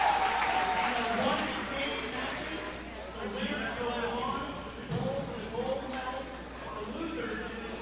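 A big crowd at a bowling championship cheers and applauds for Puerto Rico's Frankie Colon as he is introduced. The roar swells and rises, with an announcer's voice speaking over it.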